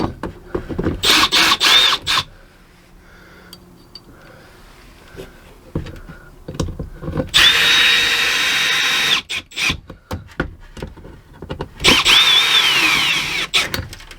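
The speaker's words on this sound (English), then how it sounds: "Now let's put the screws back in the crank mechanism." A power drill drives screws into the crank mechanism of an old vent lid, three loud whirring bursts separated by quieter clicks and handling noises.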